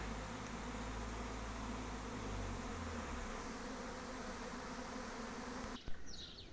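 A honeybee swarm that came back from a tree to its home hive, clustered outside without going in, makes a steady, dense buzz that hangs at an even level from start to finish, with a brief bump near the end.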